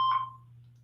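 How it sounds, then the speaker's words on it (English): A single short voicemail beep on a phone call, one clean electronic tone that cuts off quickly, leaving a low line hum. "You know what to do at the beep."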